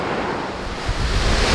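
Strong wind buffets the microphone aboard a cruise ship sailing off Nova Scotia, over a continuous loud rush of ocean waves that swells toward the end, with no talking.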